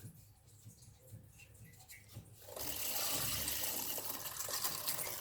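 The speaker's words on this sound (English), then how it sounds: "We can hear the water flowing." Water starts rushing through a newly installed reverse osmosis system for a reef aquarium, jumping from a low background to a steady, hissing flow that runs on to the end.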